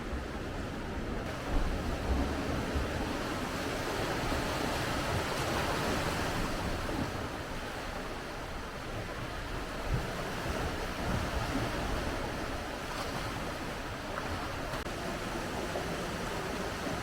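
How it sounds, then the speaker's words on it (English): Pacific Ocean waves crash against a dramatic coastline on the Big Island of Hawaii, a steady full roar of surf and wind that never lets up, with no voices. "And this dramatic coastline, waves crashing, crabs crawling."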